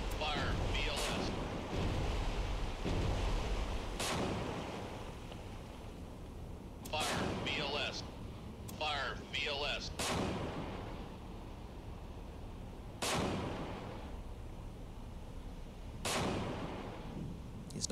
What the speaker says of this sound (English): Now we're firing.